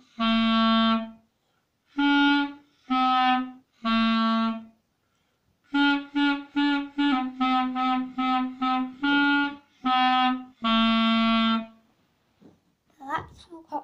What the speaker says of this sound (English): Hot cross buns would sound a little bit like this.